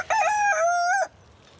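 A rooster crows once nearby, a loud, clear, drawn-out call of about a second, heard alone with no talk.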